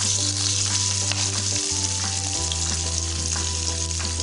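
Chopped green fenugreek leaves go into hot oil with browned cumin seeds, giving a loud, steady close sizzle with a faint hum underneath and no talking.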